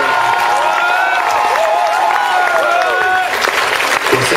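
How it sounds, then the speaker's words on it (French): A theatre audience applauds the Grand Théâtre troupe, with loud continuous clapping close by while someone speaks and sings over it, his voice rising and falling above the crowd. "Vous applaudissez la troupe du Grand Théâtre"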